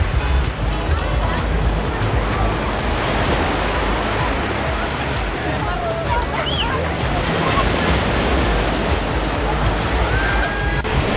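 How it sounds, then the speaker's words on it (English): Calm ocean waves wash onto a beach in Sayulita, Mexico, a steady broadband surf roar with no distinct breaks, faint distant voices and brief chirps scattered through it. "The water is very calm, so perfect for swimming"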